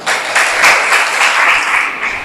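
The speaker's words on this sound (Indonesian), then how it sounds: "Tepuk tangan untuk Mas Andika" An audience at a university teaching session applauds, a loud, dense burst of many hands clapping together that holds steady before easing off at the end.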